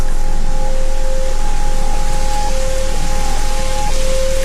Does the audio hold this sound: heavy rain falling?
yes